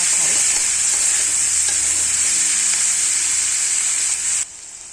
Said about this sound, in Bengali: এরপর আমি সেই চপ করা পেঁয়াজ, টমেটো, লঙ্কা, রসুন সব দিয়ে দিলাম। এবার এগুলোকে ভালো করে কষিয়ে নেব যতক্ষণ না তেল না ছাড়ে।